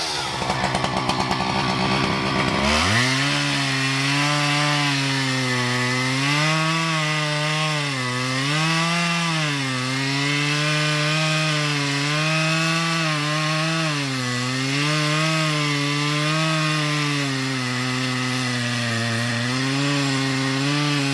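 A chainsaw roars continuously while cutting into a 600-year-old tree, the engine pitch rising and dipping as the bar bites through the wood, loud and close, starting abruptly after a brief quieter lead-in, with no talk.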